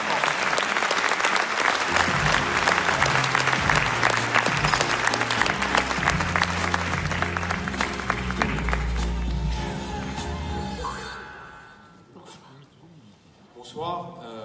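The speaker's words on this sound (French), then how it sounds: "Je vous demande d'accueillir et d'applaudir M. Mathieu Gallet, président de Radio France" An audience claps in welcome for Mathieu Gallet, president of Radio France, at an awards evening in the Maison de la Radio: loud sustained applause from a large hall that fades out, with a voice over it near the end.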